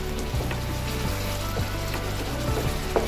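Ginger sizzling as it fries in a pan for a Kerala-style ginger curry, a steady close crackle with soft stirring clicks throughout and no voices.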